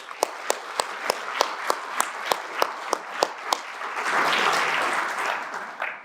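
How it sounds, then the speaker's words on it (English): A round of applause for members at a Chamber awards event: about a dozen single claps in a slow, even rhythm, then a denser burst of clapping from the room that swells and fades, with one last clap. "Let's give a round of applause to all of our members"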